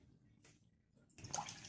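Water is poured from a cup into a pot for basbousa syrup. A faint trickle comes first, then a louder, fuller splashing pour near the end, with no talking.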